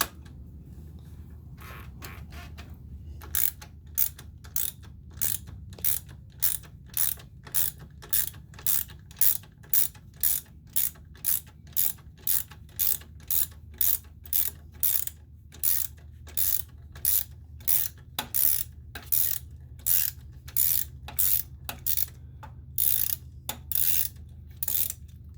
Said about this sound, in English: let me crack loose this top one, get it out of my way